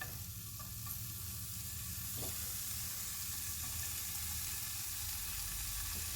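Onion and bacon bits sizzle steadily in a heated pan, a continuous soft frying hiss at moderate distance with no talking.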